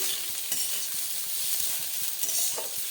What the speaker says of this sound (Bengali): ভেজে রাখা মুলোটা দিয়ে নেড়ে চেড়ে আমি নাবিয়ে নেব